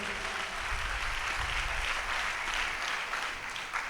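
Congregation clapping loudly together during a church service at Hosanna Mandir in Bhimavaram, a dense, steady wash of applause that fills the whole moment without pause.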